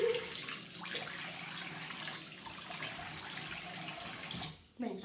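Water runs steadily from a sink tap while someone rinses their face, a close, continuous splashing rush that briefly breaks near the end, with a voice speaking over it.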